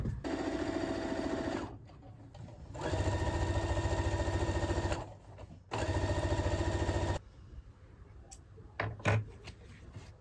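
A sewing machine stitches bias binding in three sustained runs of steady, fast mechanical whirring separated by short pauses, ending with a few light clicks and handling sounds, close by with no talk.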